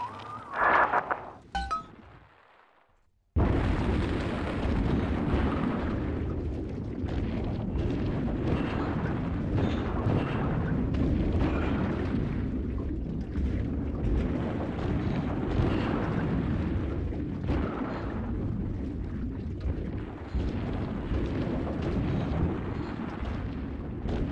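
Bombs explode in BioShock 2, opening with a short burst of clatter and then a sudden cut to silence, followed by a loud, sustained roaring rumble with scattered debris clinks.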